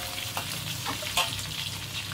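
Curry leaves sizzle and crackle in hot oil in a pan, with a steady fry hiss broken by scattered sharp pops.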